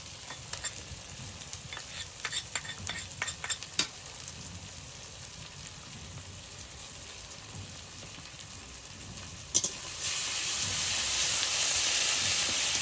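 Chili, ginger and garlic paste stirred into an onion and tomato base in a pan gives a soft continuous sizzle with scattered clicks of the spoon against the pan, rising into a louder, steady frying hiss near the end.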